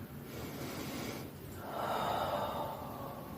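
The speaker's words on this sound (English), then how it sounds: "Breathing deeply." Slow, deep breaths during seated chair yoga: one long audible inhale through the nose, then a fuller, airy exhale, close and soft with no talking.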